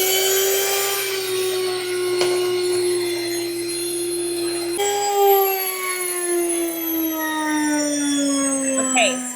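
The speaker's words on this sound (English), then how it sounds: "just finished milling our 240 grams of soft white wheat flour" Electric grain mill grinding soft white wheat into flour at its fastest motor speed, a steady loud motor whine with a falling pitch, continuous throughout with no talk.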